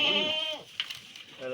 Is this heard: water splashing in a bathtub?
no